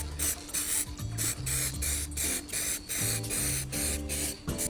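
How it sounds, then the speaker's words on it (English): An aerosol can sprays black paint onto a motorcycle radiator in short repeated bursts, each a close hissing blast with brief gaps between, about ten spurts in quick succession. "Now it's spray paint time."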